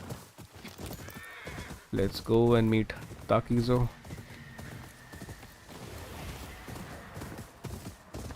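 Horse in the video game Ghost of Yotei whinnies loudly a couple of times with hoof clip-clops, while someone talks over the game sounds.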